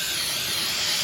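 Brake cleaner sprays in a short, loud, steady hiss during a rear brake job on a Toyota Camry.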